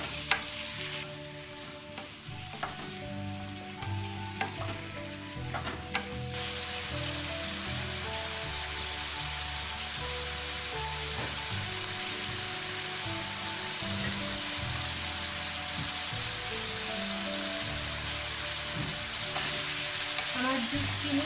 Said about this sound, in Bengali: এখন আমি জুকিনি দিয়ে কিছুক্ষণ মশলার সাথে ভাজতে হবে।